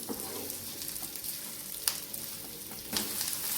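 Garlic frying on a low flame for garlic pickle gives a steady close sizzle, with a few sharper crackles and light stirring scrapes and no talking.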